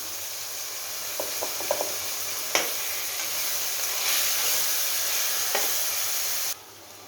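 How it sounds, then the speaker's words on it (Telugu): Fresh coconut paste fries in a pan with a steady hiss and sizzle, close, with a few faint clicks of stirring before the sizzle cuts off abruptly. "కొబ్బరి బాగా వేగిందండి"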